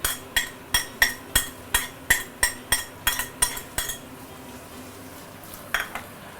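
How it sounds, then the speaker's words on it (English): Garlic, ginger and onion are sautéed in a wok, with a regular series of about a dozen sharp metallic clanks as a spatula strikes and tosses, over a low sizzle, then a pause and a couple of final clinks. "we want to saute our fresh ingredient here, the garlic, ginger, and the onion."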